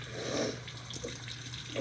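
Tap water running into a sink during face washing, a steady close splashing gush with small irregular sputters, moderately quiet and continuous.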